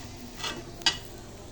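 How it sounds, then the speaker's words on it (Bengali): A spoon scrapes and clinks against a pot while zorda pulao, a sweet rice with sugar, is stirred and cooked, two faint quiet strokes over a low steady background hiss. "এখন আমি নেড়ে চেড়ে রান্না করে নেব।"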